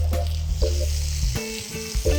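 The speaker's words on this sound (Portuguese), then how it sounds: "Com a panela não muito quente, já pode entrar os patinhos." Duck pieces sear in a thin film of olive oil in a moderately hot pan, a loud steady sizzle with crackling bursts and a few clinks of utensils, close and alone.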